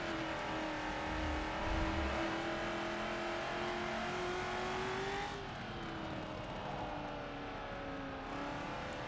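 Engine of the Hot Wheels Bone Shaker racing in Forza Motorsport 7, a loud continuous drone with rising and falling revs through gear changes, close and steady throughout with no talking.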